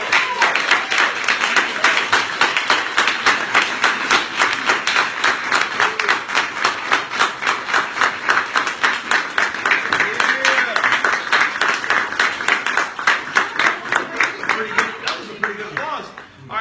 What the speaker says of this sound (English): come to the front of the room to a round of applause